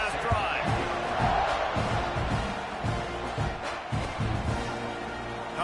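Stadium crowd roar in a college football video game against Texas A&M, a steady wash of cheering with whoops and scattered thumps during a kickoff, with game commentary-style voices underneath.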